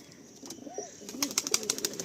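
Quiet, low cooing of a male Giribaz pigeon beside a female, with a short gurgling call and then a string of faint rhythmic coos and light ticking sounds nearby.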